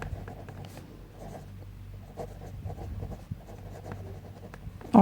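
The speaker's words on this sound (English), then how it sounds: "We will write it here." Pen or pencil writing by hand on paper while working through an indirect-method cash flow statement, a soft continuous scratching with small strokes and taps, close and quiet, with no talking.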